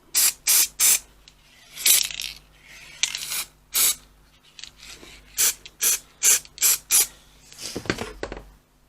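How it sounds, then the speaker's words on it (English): Repeated short hissing sprays of glue from an aerosol can inside a box, about a dozen close bursts in an uneven rhythm, with faint rattling in between. "then obviously spray the inside of the box"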